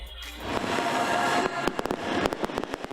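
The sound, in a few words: firework that sounds like firecracker and releases bubbles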